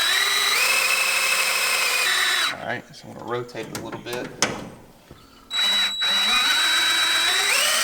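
An electric drill whines at high speed as it turns the oil pump on a rebuilt 1969 Dodge Charger engine to prime it. The drill stops for a few seconds while someone speaks, then loudly starts up again.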